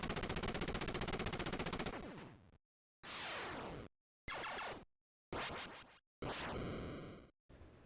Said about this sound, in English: The sound effects for different types of gunshots are distinct and pop.